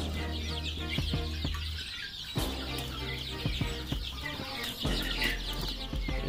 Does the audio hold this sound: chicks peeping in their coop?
yes